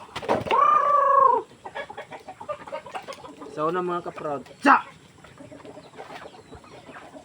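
Chickens at a farm: a loud drawn-out rooster-like call opens, followed by scattered clucks and fowl noises, with someone speaking briefly in the middle.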